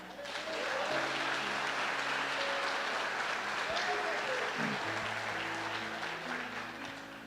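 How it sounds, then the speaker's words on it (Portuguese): Church congregation applauding in a sustained, dense wash of clapping that fills the space, with scattered voices and cheers mixed in and a steady sustained tone running underneath. "Você pode aplaudir o Senhor?"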